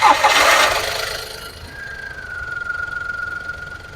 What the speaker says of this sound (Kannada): ಫ್ರೆಂಡ್ಸ್ ಇಂಜಿನ್ ಸ್ಟಾರ್ಟ್ ಆಗಿದೆ